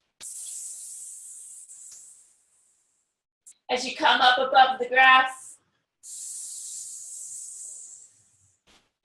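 Children and an instructor voice long drawn-out hissing sounds imitating a snake during a kids' yoga session, with spoken instruction in between two sustained hisses.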